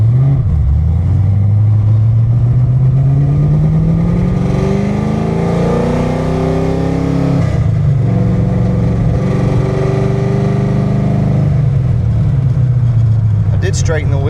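A car with a solid roller cam engine revs loudly and pulls away in a cold start, its deep rising engine tone climbing and dropping through several throttle sweeps, close and continuous, with occasional talk underneath.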